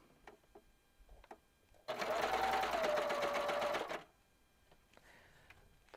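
Coverstitch sewing machine running over a test fabric scrap, a single close two-second burst of rapid even mechanical stitching with quiet handling clicks before and after.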